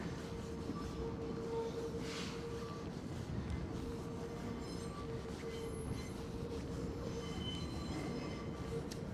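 A New York City 7 subway train near the World's Fair site in Flushing Meadows Corona Park rumbles steadily and loudly throughout, with a sustained wheel squeal and rail noise and no talk.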